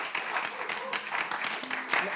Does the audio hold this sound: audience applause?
yes